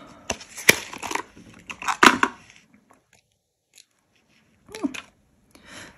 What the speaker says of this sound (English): Let's see if I can get this packaging out.